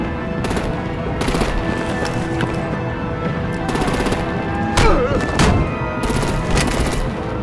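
Rapid bursts of automatic gunfire in Batman: The Telltale Series, loud repeated volleys rattling across the scene with heavier impacts mixed in, alongside background game sounds.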